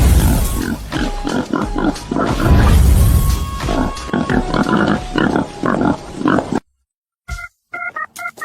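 Wild boars grunting and snorting in a loud, busy cluster of overlapping calls at close range, followed by a quieter stretch with a few short tonal squeals.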